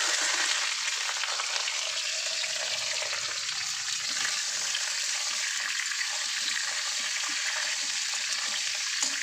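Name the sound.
potatoes and pointed gourd frying in oil with panch phoron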